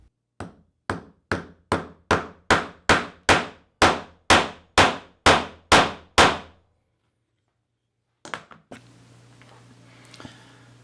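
A nut for a tripod mount is hammered into a drilled hole, about fourteen sharp metallic clangs in a steady, slightly accelerating rhythm, loud and close, followed by silence and then brief handling clatter.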